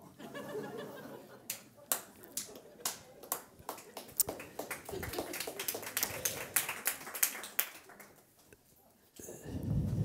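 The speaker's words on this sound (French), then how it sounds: "c'est des retraités qui m'applaudissent" A small audience of retirees applauding at a French lecture-performance on work and pensions, with scattered, uneven claps spread across several seconds, fairly faint and thin, before a voice begins speaking at the end.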